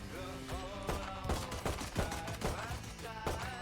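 Rapid bursts of video game gunfire in a team shooter, repeated sharp cracks spread over several seconds, fairly loud and dense with layered game sounds and music-like tones beneath.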